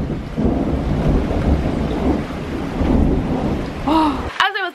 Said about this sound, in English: it was pouring down with rain